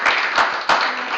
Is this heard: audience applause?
yes